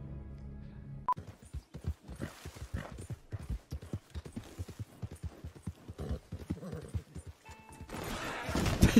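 Horse hooves clip-clopping in a steady, close rhythm of sharp strikes after a short opening sound, continuing for several seconds before a louder burst at the end.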